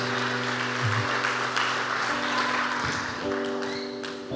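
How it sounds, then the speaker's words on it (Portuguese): Applause from an audience celebrating a couple's 40th wedding anniversary, steady clapping filling the room for several seconds with a faint voice underneath. "Vamos dar uma salva de palmas para nós?"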